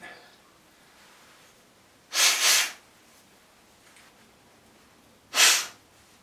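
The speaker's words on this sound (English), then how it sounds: "I'm going to sneeze as well." Two sharp, breathy bursts about three seconds apart, like sneezes, the first slightly drawn out, with quiet room sound between.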